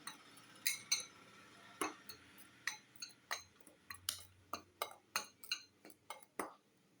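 Salt being mixed into puttu flour in a bowl, heard as a steady run of light, quick clinks and taps of a spoon against the bowl, close but quiet, speeding up toward the end, with no voices.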